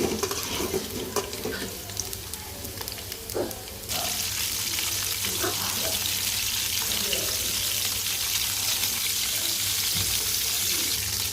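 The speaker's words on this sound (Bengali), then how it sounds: "আগে আলুটা ভেজে নিব তেল গরম দিছি টমেটো দিয়ে দিচ্ছি" Potato pieces fry in hot oil with tomato added, sizzling and crackling amid scraping and stirring sounds, and the frying hiss grows suddenly louder and steady partway through.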